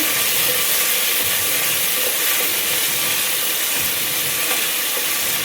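Chopped tomato frying in a pan for veg pulao, a steady broad hiss and sizzle that runs unbroken and fairly loud throughout, with no voices.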